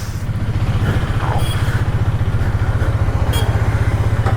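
A Hero Xtreme 250R motorcycle idles close by with a deep, steady, rapid thumping exhaust beat, running alone throughout without any talk.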